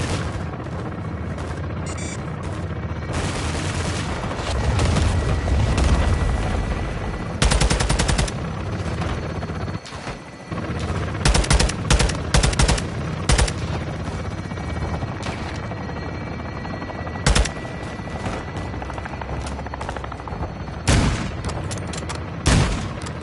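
Gunfire in the Call of Duty Modern Warfare 2 campaign: sharp bursts of automatic fire and single shots in irregular volleys, with heavier booms and a steady battlefield rumble underneath, loud and close.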